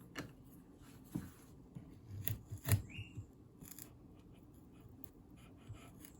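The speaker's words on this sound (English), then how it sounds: "Time to carve these out. I'm just gonna use my chisel for that." A chisel cuts into a wooden fish lure, quiet scattered scraping and sharp gouging strokes at close range, a handful of distinct cuts separated by pauses.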